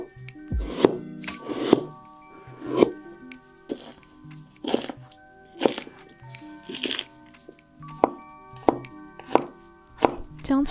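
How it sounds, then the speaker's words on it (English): A knife chops green onion, garlic and ginger on a cutting board for Sichuan water-boiled pork, the cuts landing as sharp, evenly spaced thuds about once a second, close by, with no talk. "Now let's slice the green onion,"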